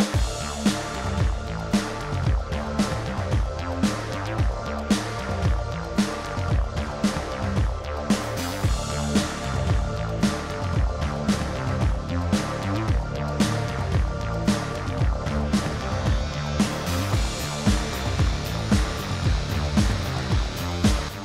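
A home embroidery machine stitches a design in yellow thread. It runs with a steady, fast mechanical whirring and a regular ticking pulse, close by and uninterrupted.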